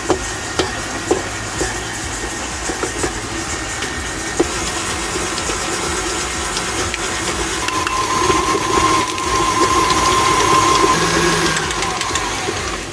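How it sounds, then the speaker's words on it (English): Electric mixer creaming butter, sugar and salt in a bowl, a steady whirring motor with a few sharp knocks early on, loud and continuous without talk. "I'm going to mix all of this until it is creamed"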